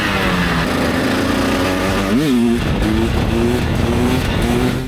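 A fuel-injected 300 motorcycle engine drones steadily up close, its pitch rising and dipping once as the throttle blips, then settling back into a sustained, loud run with no talk.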